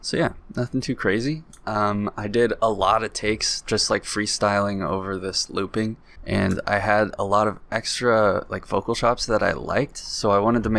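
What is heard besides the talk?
No everyday noises stand out.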